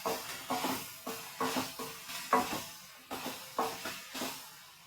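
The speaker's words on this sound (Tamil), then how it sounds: "இப்போ வந்து நல்லா கலரிடலாம்." Onion and tomato scraped and stirred in a frying pan, a steady series of about a dozen rhythmic spatula strokes with a light sizzle beneath, close and moderately loud, with no talking.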